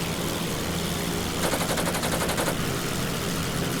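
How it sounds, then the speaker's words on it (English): Rapid machine gun bursts from a WWI biplane in a flight combat game, steady loud rattling fire with a denser burst in the middle, over a constant engine drone. "Otto is shooting controlled bursts, and some bullets are hitting."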